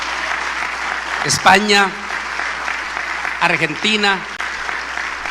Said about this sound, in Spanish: Demos un aplauso de bienvenido a los miles que se nos están uniendo en este momento.